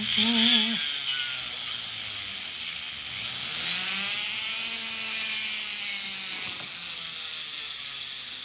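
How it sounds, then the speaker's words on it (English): A flex shaft rotary tool spins a burr against the end of a wire to dome it, giving a steady, close, high-pitched whine that runs through the whole stretch with slight rises and dips in pitch. "I could put that rotary tool bit in there, that flex shaft, and put the end of my burr in there"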